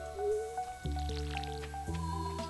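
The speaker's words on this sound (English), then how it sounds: "All right, let's water these crops up." Watering crops with a watering can in Stardew Valley, heard as soft liquid squishes and drips over steady game music, two clear sloshing bursts near the middle.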